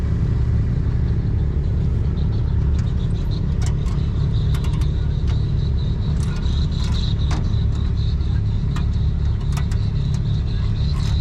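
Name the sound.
antique Oliver tractor engine running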